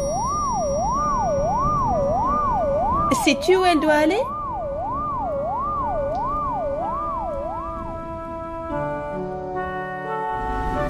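A cartoon ambulance siren wails in a smooth rising-and-falling tone for several seconds in a children's animated show about colorful cars, interrupted by a short electronic flourish and a brief spoken question, then giving way to a musical jingle.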